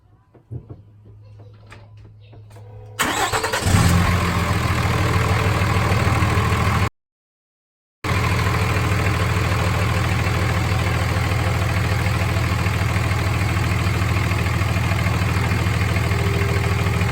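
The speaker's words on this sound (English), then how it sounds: "So go ahead and start the truck." A Ram 2500 pickup truck cranks and starts, then settles into a loud, steady diesel-like idle rumble that continues close by, briefly cut out partway through before resuming.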